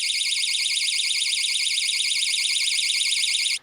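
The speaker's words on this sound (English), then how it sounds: "if someone tries to open a door or a window, it sets off an alarm" A battery-operated Dollar Tree window and door alarm blares a loud, shrill, warbling electronic tone that pulses rapidly and continuously, then cuts off abruptly at the end.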